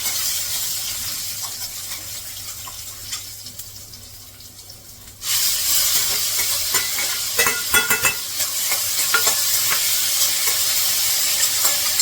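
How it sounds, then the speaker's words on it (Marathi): Finely chopped onion hits a hot pan with cumin and erupts into a loud, crackling sizzle about halfway through, after a quieter stretch of low hiss, with scattered clicks of stirring and no voices. "पहिला कांदा परतून घेते यामध्ये"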